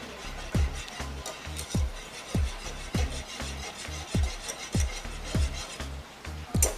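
Honey stirred into a Thai sticky wing sauce in a pan: a steady, regular scraping and rubbing of the utensil against the pan, repeating about twice a second, close and clear.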